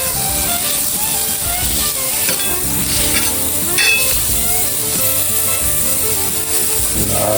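Imperial butter, about a tablespoon or a bit more, melting on a flat griddle ahead of a Western omelette, giving a steady close sizzle and crackle that runs unbroken throughout with no talking.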